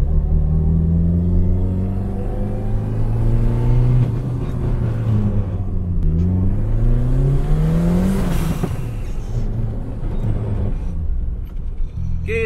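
A Toyota AE86 fitted with a turbocharged 4A-GTE engine revs hard for a drift, its loud close engine note climbing and falling through repeated rising and dropping sweeps with a steady rumble underneath.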